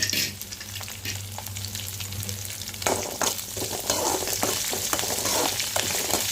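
Onions and curry leaves sauté in a hot pan for drumstick leaf chutney, giving a steady close sizzle with scraping stirs and spatula clatter throughout.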